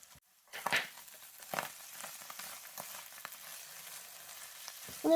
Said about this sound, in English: We want to just sort of saute this and brown it up.